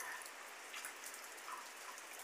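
Rain pours in a windy hurricane in Guerrero, Mexico, an even, unbroken hiss of drops striking surfaces close by, with no talking.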